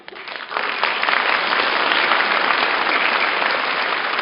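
A lecture audience at a university special lecture claps on a Sunday morning, a dense, steady patter of many hands that holds for a few seconds and eases slightly toward the end, with no voices over it.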